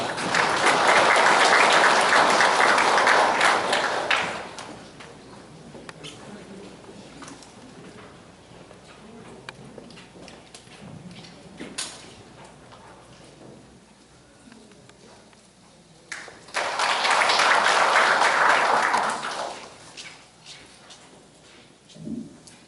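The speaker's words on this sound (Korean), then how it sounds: "힘찬 박수로 맞이해 주시기 바랍니다." Audience applause welcomes a speaker at a 2018 regional development seminar at Gumi City Hall in South Korea, with a loud burst of clapping lasting several seconds, a quieter stretch of room noise, then a second strong round.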